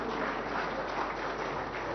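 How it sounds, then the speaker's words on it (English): Conference audience applause for four helping students, a steady dense patter of clapping held at even loudness throughout the short burst. "Please give them a round of applause to the students."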